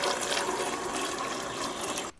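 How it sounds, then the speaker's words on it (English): Bottled spring water poured into the reservoir of a Keurig K-Slim coffee maker, a steady close splashing gush that runs continuously for about two seconds, then cuts off abruptly. "And here we are dumping some right in it."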